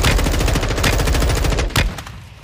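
Rapid game gunfire in Call of Duty: Warzone 2.0, a sustained, loud burst of shots with a sniper shooting at the player, sharp repeated cracks filling the whole moment before a final heavy report.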